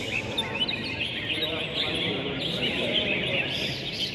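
Dense, continuous chirping of songbirds at a bird singing competition final in Cam Pha, Quang Ninh, many calls overlapping in a busy chorus, with a crowd murmuring underneath.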